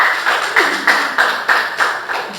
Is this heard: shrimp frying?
no